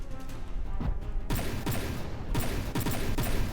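Rapid bursts of multi-barrel cannon fire in the naval combat game From The Depths, sharp repeated booming shots in clustered volleys, loud and close with a dense rumbling background.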